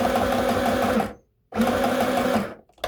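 Zenith M1000 sewing machine back stitching cotton, with two loud, close bursts of rapid mechanical whirring separated by a short pause and a faint tick at the end.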